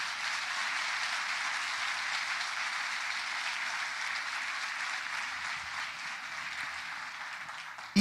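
A church congregation applauds during a Pentecostal service, sustained dense clapping that stays even and fairly distant, slowly easing off before a sharp sound at the close.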